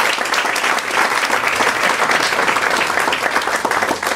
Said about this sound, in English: this deserves a big applause for you.